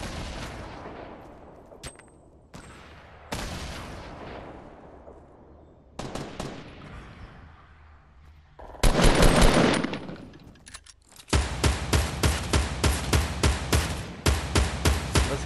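Battle gunfire in Fortnite fills a busy match with scattered shots, dense overlapping volleys and a final stretch of fast, evenly spaced automatic fire. The shooting is mostly moderately distant and no one talks over it.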